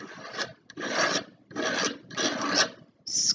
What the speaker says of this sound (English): Scrape it off as many times as you need to.